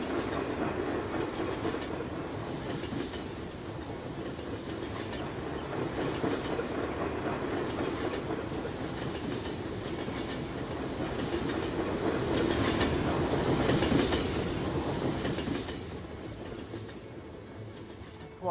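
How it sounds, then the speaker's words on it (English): A very long freight train in the Farming Simulator game rolls past continuously, with rhythmic clickety-clack and rumbling wagons that build slightly louder toward the end before easing off, with no voices. "And this train that's 8 miles long. It actually is a very long train."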